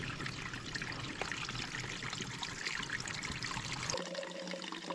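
Water being filtered on the Appalachian Trail trickles and pours steadily and close up for several seconds, then cuts to a quieter, thinner flow near the end.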